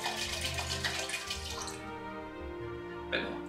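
Bellucci Superiore sparkling wine is poured into a holiday cocktail, a close, steady liquid stream with fizzing hiss that stops partway, followed by a brief clink.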